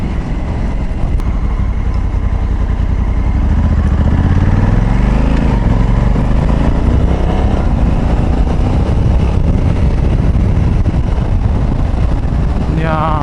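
A 2020 Honda CRF1100L Africa Twin motorcycle cruising on a highway, a loud steady engine drone with rising gear-change sweeps, buried under heavy wind rush against the microphone.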